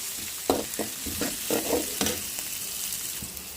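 Chopped onions fry until brown in a pan for an egg curry. A constant sizzle runs underneath a run of close, uneven spatula scrapes and stirs, and no one speaks.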